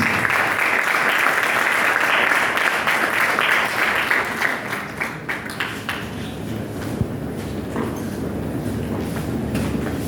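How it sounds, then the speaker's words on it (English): A crowd claps steadily in sustained applause, a dense rolling patter that softens slightly toward the end, with faint murmur underneath. "Let's put our hands together,"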